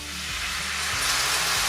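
White wine splashes into a hot pan for risotto with a loud, steady, hissing sizzle, close up and continuous.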